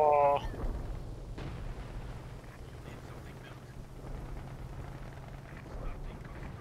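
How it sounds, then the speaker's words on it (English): Artillery fire in the Company of Heroes game, 4v4 battle on Port of Hamburg: a heavy boom at the start, then a dull continuous rumble of distant explosions and battle noise. "I'm nailing it with artillery and stuff"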